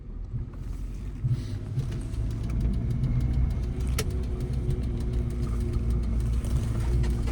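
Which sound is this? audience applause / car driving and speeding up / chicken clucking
car driving and speeding up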